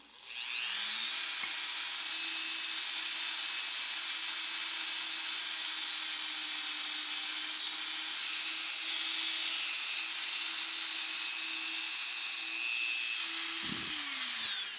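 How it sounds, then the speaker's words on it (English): A Dremel rotary tool polishes a metal 3-in-1 pendant, giving a steady high-pitched whine that runs close and loud without pause for about fourteen seconds, then cuts off abruptly. "let me get out my Dremel tool, polish this"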